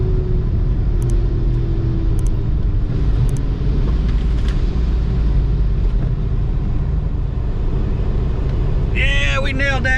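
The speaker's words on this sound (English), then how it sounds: "Nailed that rev limiter that time, folks." Procharged, cammed 5.7 Hemi R/T engine roaring steadily at high revs against the rev limiter, a loud continuous rumble with voices speaking over it.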